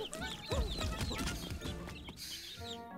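Cartoon chickens cluck and squawk in a Happy Tree Friends episode, a busy jumble of bird calls mixed with other cartoon sound effects and clattering.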